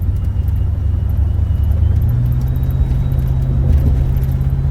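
A truck's engine and tyres give a steady, close low rumble and road drone from inside the cab, continuous and unbroken, with no talking.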